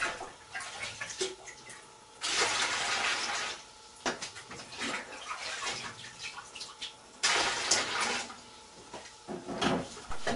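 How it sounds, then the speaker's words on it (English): Water gushing and splashing as it is emptied from a Whirlpool washing machine that will not drain, coming in loud bursts with short pauses between pours, close and without talk. "empty all the water from the machine like this."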